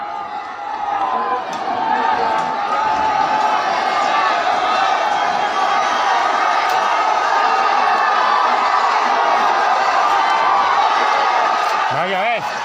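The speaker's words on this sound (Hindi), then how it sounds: "इस बीच दंगाइयों ने नारेबाजी शुरू कर दी।" A dense crowd of rioters massed at a street intersection during communal violence raises a continuous roar of shouting and chanting, loud and sustained throughout, with no single voice standing out.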